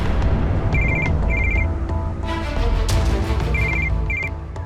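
A telephone rings in repeated electronic bursts, two short trills, a pause, then two more, sounding clearly over a busy, continuous background hum.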